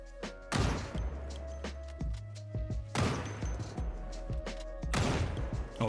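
Gunfire in the Project Zomboid video game: three loud shots roughly two seconds apart, each followed by a ringing low tail, over faint background clatter.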